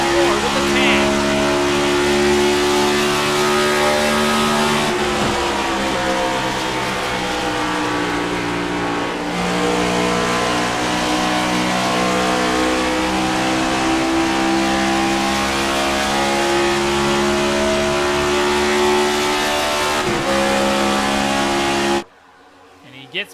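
Race car engines roar continuously through a virtual stock car playoff race at Pocono, loud sustained droning with pitch sweeps as cars rev and pass, commentary running over it, then an abrupt cutoff near the end.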